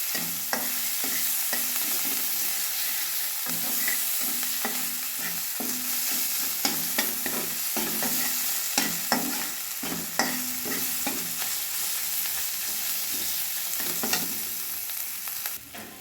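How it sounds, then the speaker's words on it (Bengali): Ginger and green chili paste frying in a pan for a koi fish gravy, with steady sizzling and repeated scraping stir strokes throughout, close and fairly loud with no talk. "কাঁচা লঙ্কা বাটা দিয়ে খানিকক্ষণ আমি ভেজে নেব।"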